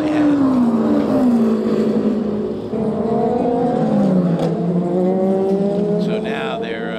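Race cars at the 24 Hours of Le Mans roar through the Porsche curves, loud sweeping engine notes rising and falling in pitch as several cars pass in quick succession, with a commentator talking over the noise.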